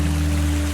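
Water gushing steadily from an opened overflow pipe at a mountain drinking-water spring source, loud and close with a constant low humming tone.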